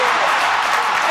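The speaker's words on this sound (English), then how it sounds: "And the crowd erupts" A roaring stadium crowd in the video game David Beckham's Soccer USA, a loud, even, sustained cheer filling the whole brief moment.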